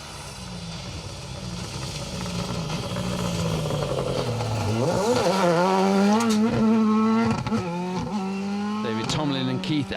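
A Ford Fiesta R5 rally car drives a stage at the Nicky Grist Stages, its engine revving hard through rising and falling gear changes that grow louder as it nears, with a commentator talking over it.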